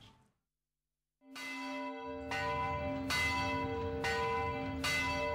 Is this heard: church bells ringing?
yes